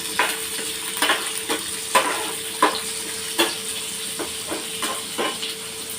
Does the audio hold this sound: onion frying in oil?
yes